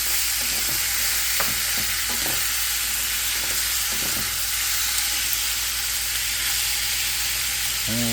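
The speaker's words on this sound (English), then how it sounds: "just kind of stir it around with the oil" Food for enchiladas fries in an oiled pan with a steady bright sizzle, while a utensil scrapes and stirs it around in a few soft irregular strokes; no talking.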